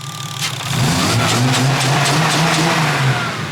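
A rebuilt car engine revs up from a low rumble, holding a rising, throaty roar for a few seconds before easing back, close and loud.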